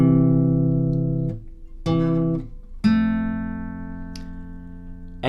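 A guitar plays the intro riff and chords of a song: a few clear plucked notes, each ringing out and slowly fading before the next, close and alone.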